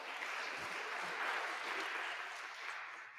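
Applause from a community forum audience, a moderately dense patter of clapping that holds steady for a few seconds in a room, somewhat distant and soft, fading slightly at the close.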